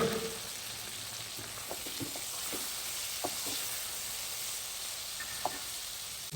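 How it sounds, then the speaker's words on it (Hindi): A steady sizzle of garlic and ginger paste frying in a hot pan, with occasional soft clicks and taps of stirring over the continuous hiss. "1 टेबल स्पून भर के मैं लहसुन और अदरक का पेस्ट डाल दूंगा इस साइड पे"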